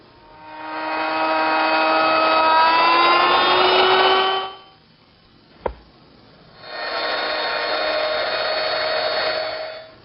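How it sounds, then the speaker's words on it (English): An electric router cutting out an inlay recess in wood, with a loud steady high-pitched whine for several seconds, a pause broken by a single sharp click, then the whine returning. "To remove the rest of the area of the inlay, I'm going to start with my router at one corner and move back and forth"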